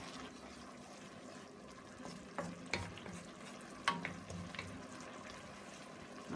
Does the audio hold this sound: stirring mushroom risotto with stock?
yes